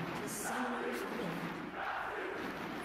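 A home crowd at an esports match, a 2016 International Wildcard Qualifier game between INTZ and Dark Passage, roars and cheers loudly and steadily throughout, with swelling shouts rising out of the dense wash of voices.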